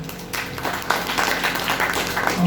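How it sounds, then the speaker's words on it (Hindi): An audience claps for Farooq Bhai and Fatima Old Age Home at an Eid celebration with senior citizens, scattered claps building into moderate applause that carries on to the end. "फारूक भाई और फातिमा ओल्ड एज होम के लिए एक बार जोरदार तालियां बजाएं"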